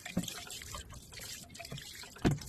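Rainwater from a rain barrel poured onto sandy soil for a lotus planting, heard as a splashing trickle with a couple of louder gushes near the start and end.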